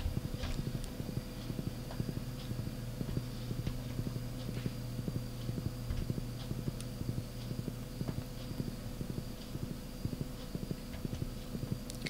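A horse walks in the farming game Stardew Valley, its hooves clip-clopping in a quiet, steady, even rhythm that repeats for the whole stretch with no talking over it.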